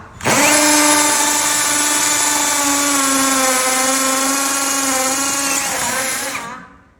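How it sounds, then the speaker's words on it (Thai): An ONSEN 128V brushless cordless impact drill bores into material with a loud, steady, high-pitched motor whine that starts abruptly, holds for about six seconds and then winds down. "ตัวสว่านแบตกระแทกนะคะ ตัว 128โวลต์ของยี่ห้อออนเซนนะคะ"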